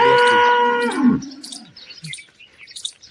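Water buffalo letting out a single loud, close, drawn-out moo that falls in pitch, followed by scattered bird chirps in the background.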